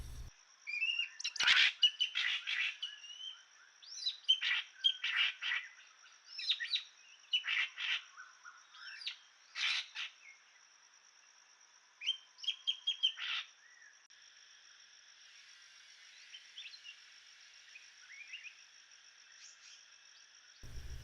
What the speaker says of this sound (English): The goshawk is back, but not without some complaints from the other birds.